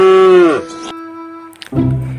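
A red cow moos in a loud, sustained bellow that falls in pitch and trails into a steady drone, followed by a brief rustle and another low bovine call, with no talk over it.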